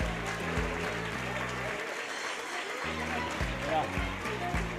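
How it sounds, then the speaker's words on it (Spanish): Loud applause fills a fair coronation ceremony in Taraguilla as a sash is placed on a honoree, a steady dense clapping wash running throughout, with deep rhythmic music beneath and a brief gap in the bass partway. "Y ese aplauso fuerte."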